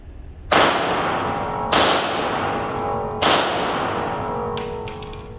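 A select-fire Sa vz.61 Skorpion fires three short, loud bursts of rapid shots outdoors, each burst followed by a trailing echo that rings out before the next.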